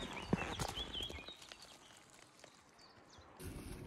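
Horses' hooves clip-clopping along a rocky hiking trail, a loose run of knocks and scuffs close by, with birds and faint outdoor noise in the background.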